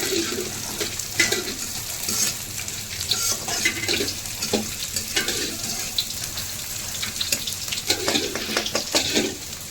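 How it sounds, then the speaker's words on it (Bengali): Potatoes fry with chopped garlic and green chillies in a home kitchen pan for a biryani, giving a steady close sizzle broken by repeated scraping stirs. "দিয়ে এটাকে ভালো করে লাল লাল করে ভাজবো।"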